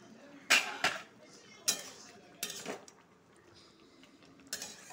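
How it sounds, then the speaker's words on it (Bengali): A metal lid lifted off a cooking pot of pumpkin, potato and soybean curry, several sharp clanks and scrapes spread over five seconds, close by, with faint background noise. "ঢাকনাটা খুলবো।"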